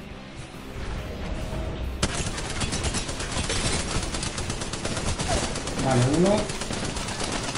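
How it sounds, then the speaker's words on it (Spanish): Rapid automatic gunfire from the Apex Legends video game roars almost continuously as loud sustained bursts after a quieter opening, with a voice speaking briefly over the shooting. "Entramos los dos a saco disparando como loco"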